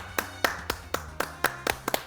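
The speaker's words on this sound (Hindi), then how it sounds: "ताली ही बजा दें।" A few people clap in a small studio during a talk-show panel discussion, giving about eight sharp, separate claps at an uneven pace, close and moderately loud, with no one speaking.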